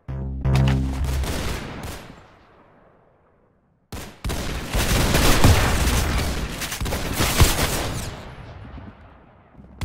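Gunfire in a Roblox Arsenal match: a burst of rapid shots fading out, a short silence, then a sharp crack and a longer dense fusillade of loud, close automatic fire that tapers toward the end.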